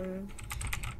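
Computer keyboard keys pressed in a quick irregular burst of about half a dozen clicks, close and clear, while keys are tried during a bed lying simulator game.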